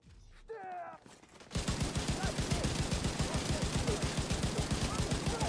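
Rifle gunfire in The Division 2, a rapid sustained automatic burst of loud, evenly spaced shots hammering continuously for several seconds after a short spoken line.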